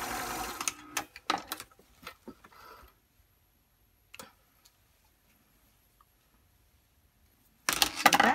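A sewing machine top stitches a kitchen towel in short bursts of quick mechanical ticking, pausing into near silence before a final loud run of stitching.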